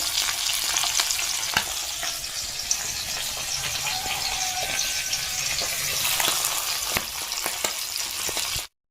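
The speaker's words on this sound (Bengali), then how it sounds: "মাছগুলো এই যে ভেজে নিচ্ছি" Fresh river pabda fish fry in hot oil in a pan, giving a loud, steady sizzle with scattered crackles and pops running continuously and alone until it cuts off.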